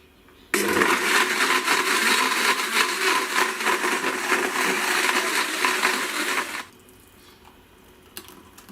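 A countertop blender whirs loud and steady for about six seconds, churning yogurt, apple juice and frozen fruit into a smoothie, then stops abruptly, leaving a quiet room.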